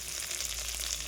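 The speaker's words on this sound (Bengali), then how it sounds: "কাজু কিশমিশগুলো দিয়ে দিয়েছি, এবার ভালো করে ভেজে নেব" Cashews and raisins with cardamom fry in a pan, giving a soft, steady sizzle that crackles evenly throughout, with no talking.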